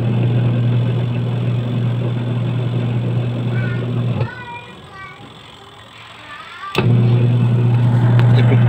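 A repaired Sharp Giga Wash 7.5 kg washing machine wash motor running with a loud, steady hum, cutting out abruptly for about two seconds while brief voice sounds are heard, then starting again just as loudly.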